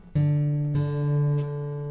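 A single plucked fourth guitar string ringing out during tuning, struck twice in quick succession, its steady tone holding and slowly fading; close and clear.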